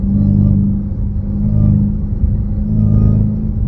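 A Dodge Hellcat with an aftermarket Legmaker intake and JLT box pulls hard in fourth gear. The engine rumble is loud, deep and close, swelling and easing slightly as it accelerates, with no voices.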